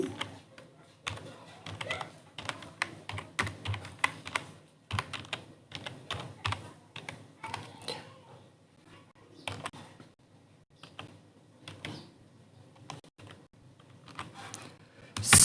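Rapid, irregular clacking of computer keyboard keys as a search query is typed, in bursts with short pauses, close and fairly quiet with no talking.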